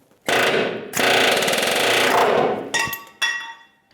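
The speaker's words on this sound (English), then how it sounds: "Just taking my center punch. Give it a punch through." Pneumatic tool driving a center punch through rivets on a 1992-1996 Ford F-150 truck frame: two loud, sustained rattling hammer bursts, then a few short sharp metallic hits.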